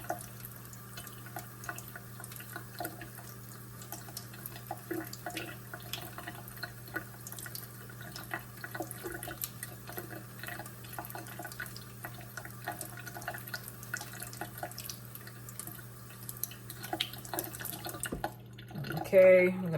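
Cold tap water runs and trickles in a kitchen sink while tomatillo seeds are rinsed, a steady soft splashing with scattered drips that continues throughout at moderate, close level.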